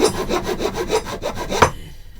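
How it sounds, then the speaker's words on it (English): A wooden guitar neck is carved by hand, producing repeated rhythmic rasping strokes of a blade or rasp against wood, close and fairly loud, about seven strokes before a final scrape and quiet. "We just want to carve this away. We're basically taking off the edges."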